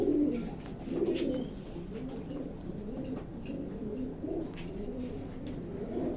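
Grizzle pigeons in a loft coo in low, rolling murmurs that overlap and continue throughout, close by, over a dull background hum.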